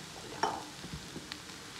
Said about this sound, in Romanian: O să-l prăjim și pe el puțin.